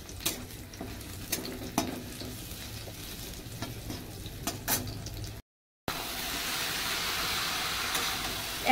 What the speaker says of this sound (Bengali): লাল শাক ভাজা করবো।